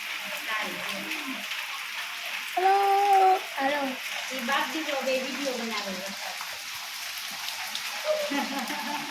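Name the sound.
rain falling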